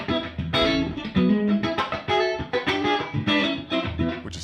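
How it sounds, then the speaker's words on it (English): Electric guitar played through an amp's harmonic vibrato, a wobbling, pulsing effect, chords and single notes ringing out loudly with no talking. "on the amp I actually have a harmonic vibrato and that sounds like this"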